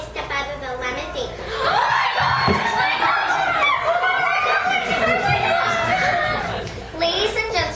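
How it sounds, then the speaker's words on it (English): Excited crowd at a red carpet premiere as a limousine arrives, a loud mix of cheering, chuckles and shouting voices over a continuous hum of chatter. "The crowd can hardly contain themselves as Don and Lena step out of the limousine."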